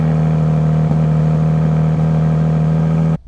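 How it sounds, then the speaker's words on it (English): Cold start idle of a 2025 Ram RHO truck with the inline Hurricane engine, a loud, steady low hum with a strong droning tone, two faint knocks, then cutting off abruptly at the end. "for a cold start for the inline Hurricane"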